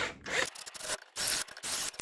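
A hand drill with a larger bit bores a truss rod hole into a wooden guitar neck, giving close, gritty rubbing bursts broken by short pauses.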